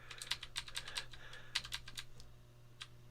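Arrow keys on a computer keyboard are tapped in a quick series of light, crisp clicks, some in close pairs, then a pause and a last single press, quiet and close with no speech.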